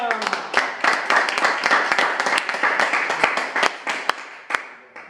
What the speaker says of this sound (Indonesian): kita beri aplaus untuk Anda semua